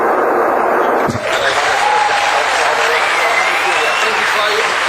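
Audience applause at the 21st World Scout Jamboree in Chelmsford, England, heard over a radio link, a broad steady wash of clapping with a sharp knock near the start and a voice speaking over it.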